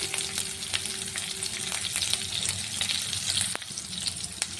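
Thinly sliced green chilies fry in hot oil with mustard and cumin seeds, giving a loud, dense sizzle with crackling pops throughout. There is no talking.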